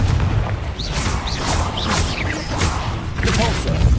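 Confringo fire-blast spells detonate in Hogwarts Legacy, a dense run of loud, booming blasts and crackling bursts over a heavy rumble, with a voice faintly calling out amid the chaos.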